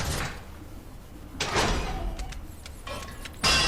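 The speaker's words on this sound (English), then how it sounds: "you will have to wait a while for the door to open, since it's on a timed lock" A timed-lock door in the Saw video game grinds open with a couple of heavy mechanical bursts and scraping slides, ending in a loud clunk, with no talk over it.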